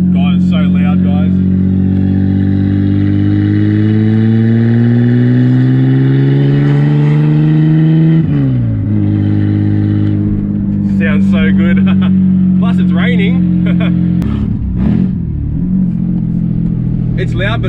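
A budget drift car with new side exhaust pipes revs loudly up close, its engine pitch climbing, dropping and surging again, with a person talking over the roar.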